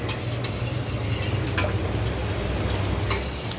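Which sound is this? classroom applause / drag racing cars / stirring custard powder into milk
stirring custard powder into milk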